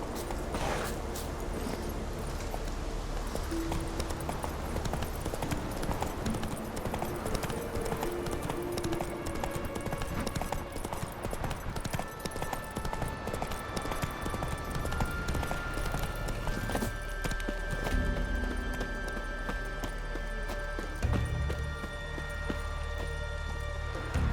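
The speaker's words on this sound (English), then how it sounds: "Roach, I wouldn't mind a ride out of here." Hooves of Roach, a horse in The Witcher 3: Wild Hunt, clip-clop in a steady, rapid galloping rhythm that carries on without a break over a busy game soundscape with faint tones.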